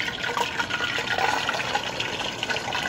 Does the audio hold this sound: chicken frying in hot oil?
yes